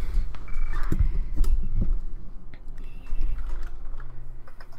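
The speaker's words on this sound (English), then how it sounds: "My keyboard." Computer keyboard typing during Roblox gameplay: irregular clicky keystrokes, some bunched in quick bursts and others spaced apart, close and fairly loud over a low background hum, with no speech.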